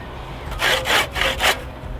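A handsaw cuts through wood in three or four steady back-and-forth strokes, close and clear against quiet room noise.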